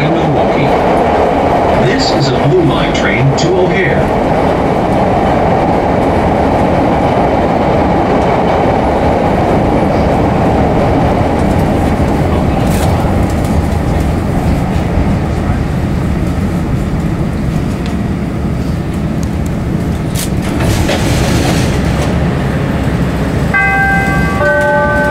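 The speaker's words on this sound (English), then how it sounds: "This is a blue line train to O'Hare." A Chicago CTA Blue Line subway train riding between stations toward O'Hare, a loud continuous rumble and roar of the cars with rattling, a few brief squeals and chimes near the end.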